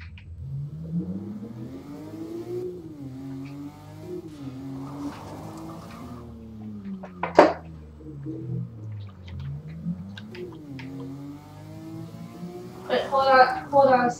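A car engine in the Garry's Mod video game revs in short bursts beneath nearly continuous excited talk, with one sharp loud surge midway and a rougher burst near the end.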